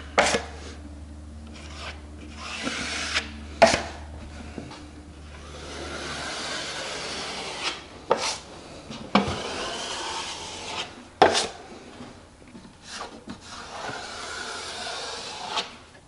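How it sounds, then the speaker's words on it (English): A drywall trowel scrapes wet joint compound off a taped corner in repeated near, rasping strokes separated by sharp clicks and knocks, with no talk. "We're going to start at the top here and get all that mud squeezed out from the edge."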